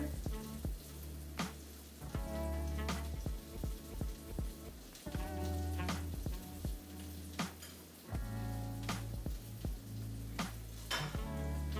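Paella with asparagus frying in a pan, a dense, close bubbling sizzle that keeps going throughout, broken by repeated scrapes and knocks as the pan is turned and the rice stirred.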